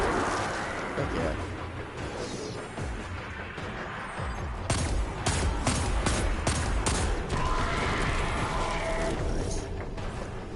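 Rapid bursts of video game gunfire from a fast-firing weapon crackle in quick succession, loud and dense through the middle of the stretch, layered over steady game background noise.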